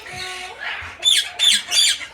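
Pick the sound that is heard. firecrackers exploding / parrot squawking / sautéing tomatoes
parrot squawking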